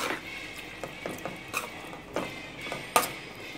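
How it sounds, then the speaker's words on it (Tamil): Poori masala, thinned with a little water, is stirred in a pan with a spoon scraping and clinking against the metal at a soft, irregular pace over a quiet simmer, and nobody speaks. "கொஞ்சமாக வாட்டர் ஆட் பண்ணிவிட்டு நல்லா கலந்து விட்டுடும்"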